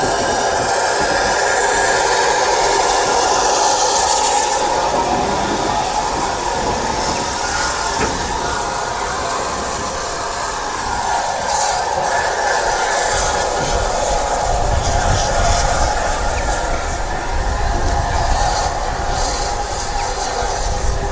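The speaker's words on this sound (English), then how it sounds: "How old's this train, you know? It's 100 years old this year." A 100-year-old train runs with a continuous loud rumble, hiss and rattling clatter from inside a carriage, the steady roar shifting in tone as it travels.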